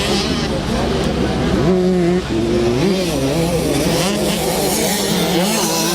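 65cc motocross bikes race around a dirt track, their small two-stroke engines buzzing and revving up and down in overlapping whines, loud and continuous beneath a race commentator's voice.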